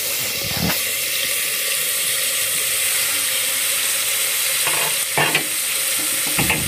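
Chicken shashlik pieces frying in a pan on a medium-low flame, giving a steady, continuous sizzle with a few brief clattering touches near the end; no one speaks.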